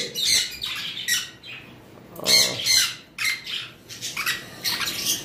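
Sun conure and pineapple green cheek conure parrots squawk in repeated harsh, shrill bursts, close and fairly loud, with short pauses between calls and no talking.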